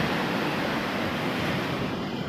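Ocean waves crash on the shore during high seas in the dry season, a loud, steady broadband roar of surf with wind, continuous and close.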